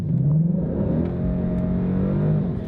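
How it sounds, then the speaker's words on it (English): A car with a 10-speed automatic transmission accelerating hard, its engine note rising smoothly and steadily, loud and close, with no pause or lag. "It just goes like stink when you step on the gas."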